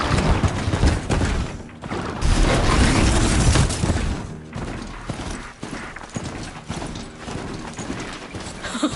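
Metallic hoofbeats of a Strider robot horse galloping while ridden in Horizon Zero Dawn, a steady loud clip-clop rhythm pounding throughout with heavy low thumps mixed into the game ambience.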